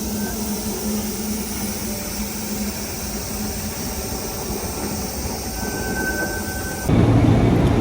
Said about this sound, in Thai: รถไฟ หัวรถจักไอ้น้ำมาแล้ว